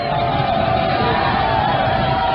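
A college football stadium crowd at CSU-Pueblo versus Colorado Mesa roars in a steady, dense wash of cheering and yelling, rising as fans urge their defense on.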